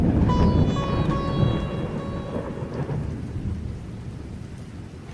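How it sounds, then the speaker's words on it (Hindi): A strong thunderstorm with a violent windstorm: a heavy, continuous roar of rain and wind with deep rumbling thunder, loud and steady throughout, with no voices. "तेज आंधी तूफान चल रहा है"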